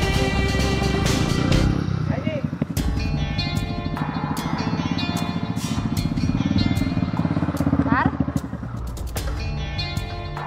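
A motorcycle engine idles and revs close by with a rough, continuous putter and occasional throttle swells while people talk over it.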